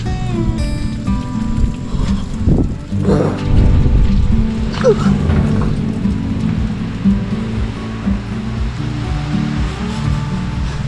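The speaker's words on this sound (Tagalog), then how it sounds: "Minsan galit na galit pa yung ulan." Heavy rain and strong wind pound a surf-side campsite, producing a loud, continuous rumbling wash with gusty swells and occasional clattering, while voices talk faintly underneath.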